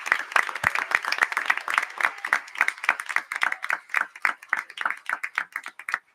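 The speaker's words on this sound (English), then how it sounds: "can I have a round of applause for Officer Pickard and Officer Spina" Council meeting audience claps for two police officers in Gloucester Township, a fairly close, steady round of individual hand claps lasting several seconds before tapering off.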